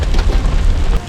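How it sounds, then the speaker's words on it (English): Heavy rain pours steadily at a campsite in Yosemite, a dense, loud, continuous wash with a deep low rumble, as if drumming on a tent or tarp up close. "It's raining pretty good here at our campsite now."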